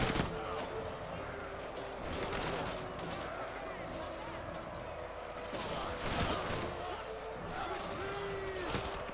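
Fire-ammunition volleys crack and thud across a Total War fantasy battle, dwarves fighting archers, with repeated bursts of shots and impacts over a busy battlefield din while someone talks over much of it.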